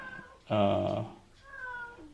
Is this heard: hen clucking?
no